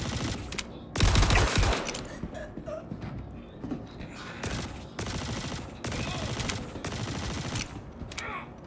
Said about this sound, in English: Who is shooting right now?